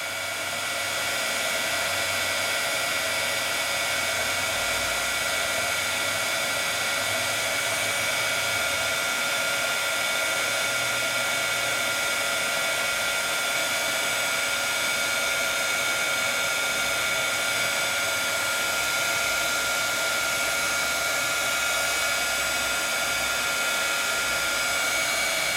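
A Sizzix heat tool blows a steady, loud hot-air roar while it heats embossing powder up close, holding one unbroken tone from start to finish with no talking over it.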